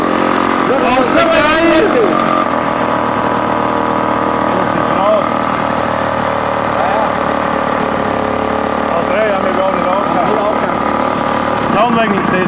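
Small engine of a motorized beer crate vehicle running steadily, a loud continuous buzzing drone with slight wavering, close by, with people talking over it.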